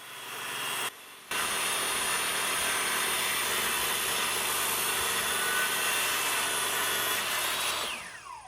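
A table saw cuts through wood trim with a loud, sustained whine that runs for several seconds after a brief dip, then winds down at the end.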